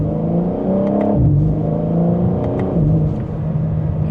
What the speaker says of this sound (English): so we can hear that exhaust